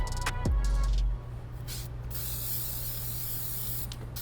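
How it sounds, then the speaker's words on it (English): Adhesion promoter sprayed from an aerosol can onto an Air Jordan 4 Alternate 89 sneaker during a restoration, a loud close hiss that starts abruptly and then tails into a steady softer aerosol rush with faint background noise. "you gotta spray this stuff because it helps the paint adhere better to the material"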